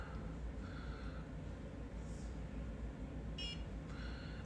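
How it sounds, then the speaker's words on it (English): Short electronic beeps from a facial toning device timer, a brief tone early on and a clearer cluster of high bleeps later, faint over a steady low background hum. "it's supposed to beep every so often to let you know that this time is up"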